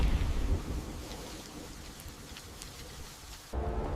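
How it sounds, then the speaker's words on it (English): A thunderstorm brings steady rain and wind with a low rumbling of thunder, continuous and moderately loud, cutting off abruptly before a fresh surge of storm noise. "A storm fought the flames when nothing else could."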